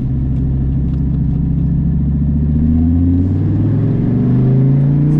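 A Gen V Dodge Viper pulls hard in second gear from low revs, its deep engine note climbing steadily in pitch and growing louder over a few seconds, heard from inside the car with no talking.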